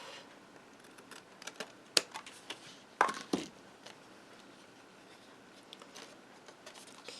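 Paper trimmed for scrap cards gives soft, intermittent cutting and rustling sounds, with a few sharp snips and taps in the middle against a quiet room.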